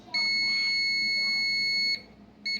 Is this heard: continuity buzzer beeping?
yes